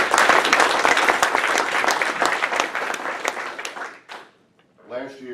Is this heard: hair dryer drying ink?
no